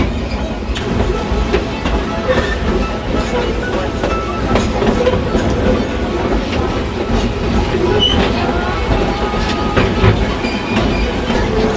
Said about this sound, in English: it's a standard gauge locomotive